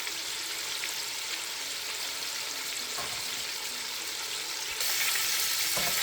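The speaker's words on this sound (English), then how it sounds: "make sure that the fish is all separated and it's frying beautifully" Striper bass steaks fry in a pan with a steady, close hiss and crackle that carries on unbroken, rising slightly louder near the end.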